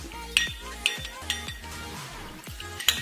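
Spoon stirring pineapple pudding mixture in a pan to keep it free of lumps, with repeated light scraping and clinking strokes at a steady rhythm, close and moderately quiet, no talking.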